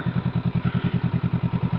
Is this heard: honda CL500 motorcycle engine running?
yes